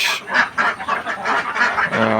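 Farm ducks sick with duck plague give a run of rapid, raspy quacks and honks, loud and close, overlapping in a dense chorus.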